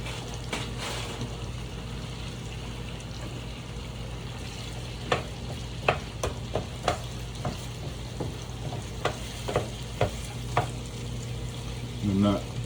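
Pre-cooked chicken and steamed vegetables sizzle in a hot pan for keto meal prep, a constant frying hiss under a low hum, with a regular series of utensil scrapes and clinks as the food is stirred.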